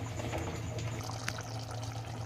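Water pours into a pot of chicken biryani gravy, making a continuous, even rush of liquid with a low, steady hum under it throughout.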